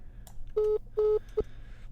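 Three electronic dialing beeps: two sustained tones followed by a short blip, clear and close over faint background hiss.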